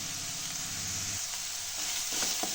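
Curry leaves and about ten garlic cloves crackle in hot oil for tomato thokku: a continuous, close frying hiss with soft spatula knocks and pops building toward the end.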